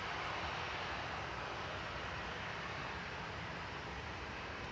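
A TAP Air Portugal airliner bound for Lisbon rumbles steadily at Manchester Airport, a broad, even engine roar heard from a distance with no talk.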